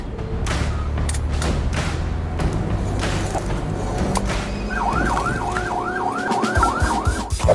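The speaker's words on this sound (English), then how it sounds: "If you cut off enough cars, then one of them might have a siren and blue lights on top." A wailing siren sweeps up and down repeatedly in the latter half, over the steady rumble of traffic and engines.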